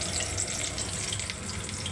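Curry leaves dropped into hot oil for Bengali aloo jhuri bhaja fry with a steady, dense, close sizzle and hiss throughout, with no voices.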